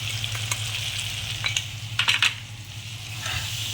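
Vermicelli being stirred with red chilli powder, turmeric and Maggi masala, a steady close scraping and clinking of a spoon against a pan over a low sizzle, with a cluster of sharper scrapes in the middle.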